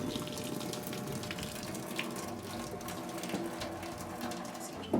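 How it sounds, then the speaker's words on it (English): Water pours steadily into a sink in a continuous splashing gush that lasts throughout, with a small clunk at the very end. "So we're gonna just dump this water out."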